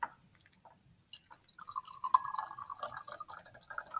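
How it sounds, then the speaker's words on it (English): Cold water at 5 degrees Celsius being poured and mixed in a lab beaker, giving soft trickling and dripping splashes that build into a steady close liquid sound over a few seconds. "letter D, we are mixing now more cold water"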